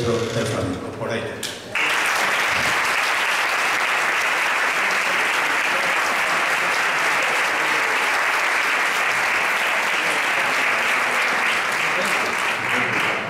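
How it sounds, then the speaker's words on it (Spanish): After a brief spoken moment, an audience at a flamenco festival bursts into strong, sustained applause that stays loud and even for the rest of the stretch. "le vamos a dar un fuerte aplauso"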